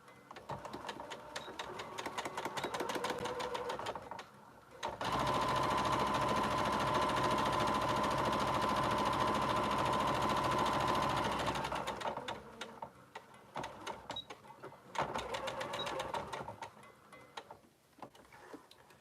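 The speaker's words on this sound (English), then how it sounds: "I'm just going to sew 1/4 inch down that side over there." A sewing machine runs steadily while stitching a quarter-inch seam on a sling bag, with short bursts first, then one long continuous run, then a few more brief bursts, close and fairly quiet.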